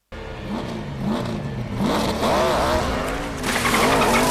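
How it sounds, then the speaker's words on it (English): Rising and falling squeaky dolphin sound-effect whistles sound over a loud roaring engine and tire screech in the film The Final Destination. "That was just a dolphin. Hear it again."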